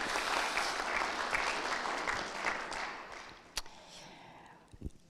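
Applause from a community meeting audience celebrating members' birthdays: a broad, even patter of clapping that thins and fades toward the end, leaving a few scattered sounds.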